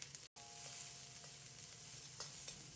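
Laba garlic cloves stir-fried in hot oil in a wok, giving a steady, dense sizzle and crackle that runs continuously with one brief dropout near the start, close and without speech.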